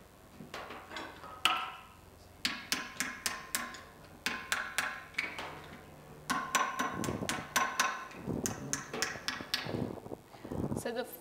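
Repeated hammer blows shaping a metal surface in a workshop while building an Airstream caravan, arriving in sharp bursts of rapid strikes with short pauses between, fairly close and loud.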